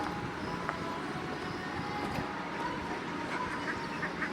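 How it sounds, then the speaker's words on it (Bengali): Ducks by a pond quack intermittently against a steady outdoor background, the calls moderately distant and blended with ambient noise. "এখানে পুকুরের পাড়ে হাঁস আছে"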